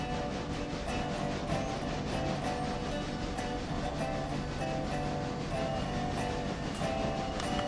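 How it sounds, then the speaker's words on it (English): Passenger locomotive in the railroad game Railroader running steadily, a continuous rumbling drone with rhythmic clicking and rattling of wheels over track, heard alone at a moderate, even level throughout. "that will probably become our passenger locomotive"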